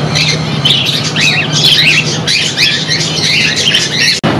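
Common zebra finches in a pet shop give rapid, nasal, squawking calls in dense overlapping bursts, loud and close, over a steady low electrical hum and general shop background.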